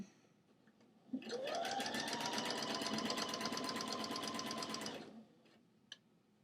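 A sewing machine stitching lace onto a T-shirt sleeve cuff runs at a steady fast rate for about four seconds, rising quickly to speed. It is loud and close and stops abruptly, followed by a faint click.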